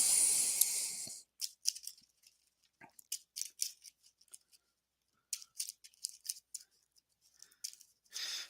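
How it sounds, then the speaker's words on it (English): Playing cards are shuffled up close to set a starting grid for a racing league draw: a brief loud hiss, then scattered crisp flicking bursts in short rapid clusters. "We'll shuffle the cards back up"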